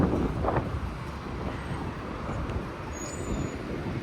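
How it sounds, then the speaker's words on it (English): Breezy, chilly wind buffets a microphone outdoors at a city intersection on a cool day, giving a steady low rumble with faint traffic beneath, no talk. "But it is breezy, chilly wind."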